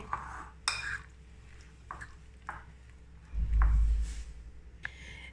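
Okra pieces being tossed and stirred by hand in a bowl to coat them in gram flour, with soft intermittent clinks and squishy mixing sounds, quiet and close, plus a brief heavier thump near the end.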